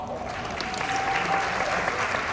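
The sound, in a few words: audience applause at a conference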